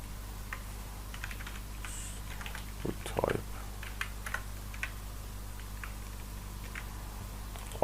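Typing on a computer keyboard, a brief scattered flurry of light clicks and taps at moderate distance over a steady low hum, with a louder clack partway through.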